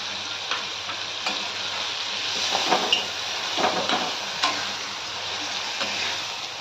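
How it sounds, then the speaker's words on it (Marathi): Ground masala paste for a spicy Maharashtrian prawn curry fries in hot oil in a pan, giving a continuous close sizzle broken by several short stirring scrapes. "आता हा वाटलेला मसाला टाकते"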